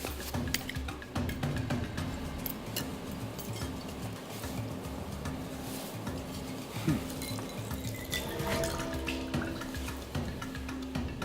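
Fresh lemon juice and sugar syrup poured into a cocktail shaker, a soft continuous trickle with light drips and the odd glassy clink, fairly quiet and close.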